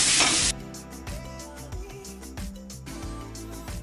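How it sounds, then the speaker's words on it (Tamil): Chopped onion and carrot sautéing in a pan for chicken fried rice: a loud hiss at the start drops to a softer sizzle, with music playing over it throughout. "இதில் கேரட் சேர்த்துக்குவோம்."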